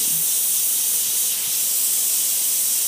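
An airbrush sprays paint onto an MDF panel in a close, steady, unbroken hiss that holds at an even loudness for the whole moment.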